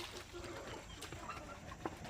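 Chickens clucking at a poultry farm, a flock's soft, scattered clucks and brief calls close by over steady background noise, with no talking.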